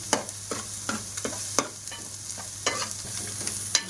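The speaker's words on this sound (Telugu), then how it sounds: "కొంచెం ఫ్లేమ్ పెద్ద పెట్టుకొని ఎగ్ ఫ్రై చేయండి" Egg and mixed vegetables fry over a high flame in a pan, a constant sizzle broken by a regular series of sharp spatula scrapes and knocks against the metal, close and clear.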